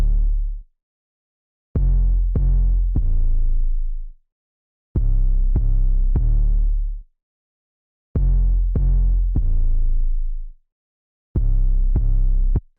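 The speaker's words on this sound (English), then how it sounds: "let's start off with the 808, which then sounds like this." Dry 808 bass drum with no effects plays in repeating groups of three booming hits, each a deep sustained tone that decays, separated by silent gaps, loud and alone.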